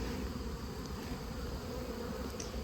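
A honeybee from a struggling, mite-infested backyard colony buzzing steadily while perched on a person's finger, a close, continuous drone with no talk over it.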